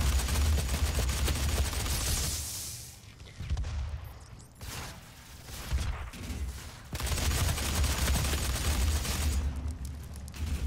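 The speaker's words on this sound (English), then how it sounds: "I do quite like this assault rifle though." An assault rifle in Doom multiplayer fires in sustained automatic bursts, loud and close, pausing through a quieter stretch in the middle before the rapid shooting resumes.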